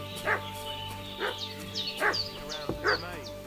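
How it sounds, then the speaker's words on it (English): A dog barks repeatedly in Kingdom Come Deliverance 2, five or so sharp yips spaced about a second apart at moderate distance, over a low ambient hum. "What's that dog making such a fuss about?"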